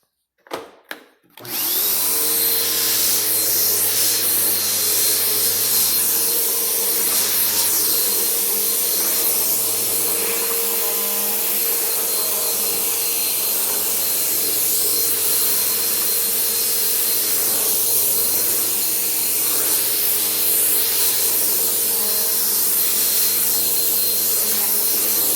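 A Bissell bagged vacuum cleaner switches on and runs on carpet, a loud, steady close-up motor whir with a rushing airflow that holds for about twenty-five seconds.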